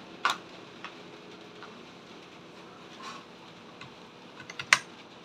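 A USB keyboard on an old PC is typed on in sparse, faint clicks, a few isolated keystrokes with a small cluster near the end, over a low background hum.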